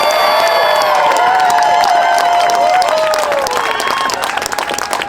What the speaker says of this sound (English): Can we give a huge round of applause back there to Marsha Howard